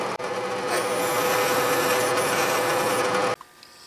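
Reamer cutting a quarter-inch hole in the carriage of a Craftsman lathe for an oiler, a steady close rasping scrape running unbroken for about three seconds before stopping abruptly.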